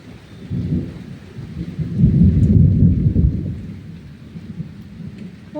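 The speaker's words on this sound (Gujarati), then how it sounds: "8 વાગ્યામાં જો આપણે ગાજે એ સાંભળતા હે." Thunder rumbles and swells through steady heavy monsoon rain, peaking midway and then fading, a deep rolling roar under a constant hiss of falling water, with no voices.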